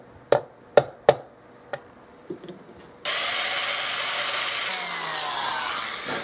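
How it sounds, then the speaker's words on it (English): A drill bores through a Turkish walnut gun stock with a dull bit. A few sharp knocks come first, then a steady, loud grinding whir that runs unbroken to the end. "then drill through both sides and connect in the middle"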